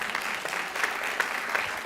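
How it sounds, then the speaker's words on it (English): Applause from an audience at a committee meeting, a steady wash of clapping hands lasting about two seconds at moderate level with no voices over it. "We could clap for that."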